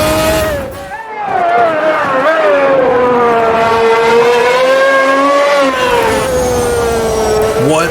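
A McLaren MP6 Formula 1 race car engine in the Automobilista 2 racing game runs loud and close, a sustained high-pitched scream that holds steady then rises and falls through gear changes.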